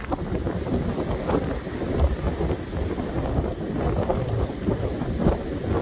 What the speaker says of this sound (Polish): Pięknie tutaj, ale tak strasznie wieje